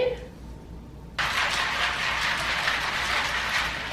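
A cocktail shaker holding water and Crystal Light lemonade mix is shaken hard, starting abruptly after a quiet moment into a steady, rattling, sloshing rush that continues to the end.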